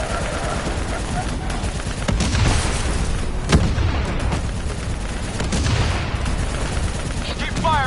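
Rapid gunfire aimed at a VTOL in a Call of Duty Black Ops 3 battle, with sustained machine-gun bursts and sharp cracks throughout, loud and close, mixed with shouting soldiers.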